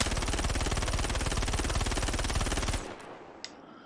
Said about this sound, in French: je vais vider un chargeur et voir s'il y a beaucoup de recul